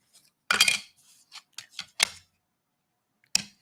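Scissors cutting craft material, a few close, crisp snips in short irregular bursts with quiet gaps between, the last cut coming alone after a pause.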